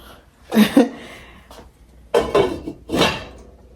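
A pot of goat meat soup for Nigerian ogbono is set onto a stove, with a few close metallic clanks and scrapes in separate bursts and quiet pauses between.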